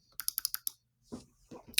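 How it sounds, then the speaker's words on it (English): Keys on a computer keyboard are struck in a quick run of about six crisp, close clicks, followed by a few softer taps and rustles. "I'm going to go ahead and hit return on my keyboard"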